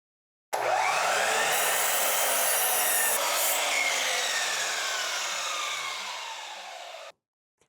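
A power saw blade cuts through wood pieces for carpenter bee traps in one continuous, loud pass lasting about seven seconds, the whine sweeping down in pitch as the cut finishes, then stopping abruptly.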